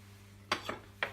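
Three quick clinks of utensils against a bowl as a summer salad with chopped basil is tossed, light and close over a quiet low hum.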